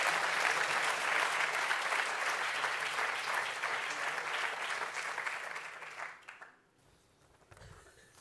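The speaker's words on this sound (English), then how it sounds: "So please give yourselves a round of applause." Audience applause at an entrepreneurs' pitch competition final fills the room, steady dense clapping for about six seconds before tapering off abruptly into quiet room noise.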